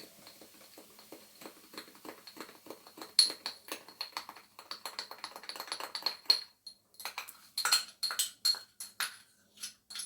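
Baking soda quenched with about 15 grams of apple vinegar and stirred, heard as quick, light clicking and tapping of a utensil against a bowl, irregular bursts that grow busier toward the end, close and fairly quiet.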